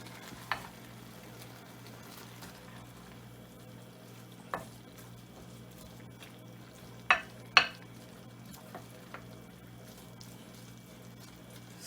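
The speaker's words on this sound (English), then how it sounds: "this is boiling up nicely" Liquid for coconut gizzada filling simmers quietly in a pot over medium heat with a steady low bubbling hiss. A few soft clinks and pops break through now and then.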